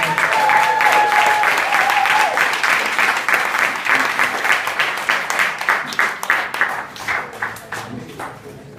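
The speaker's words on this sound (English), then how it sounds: "Can we give all the girls a little clap?" Wedding guests burst into loud, dense applause that thins into scattered, individual claps toward the end, with a brief voice near the start.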